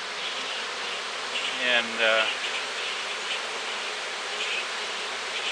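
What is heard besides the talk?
swarm of honey bees buzzing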